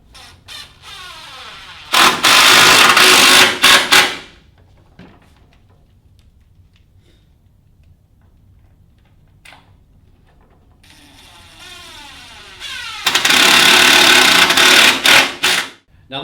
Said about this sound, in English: grab our Phillips screws, size 3 Phillips bit, and screw it in.